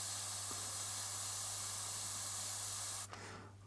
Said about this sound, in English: it'll give you a wider spray pattern hitting the paper.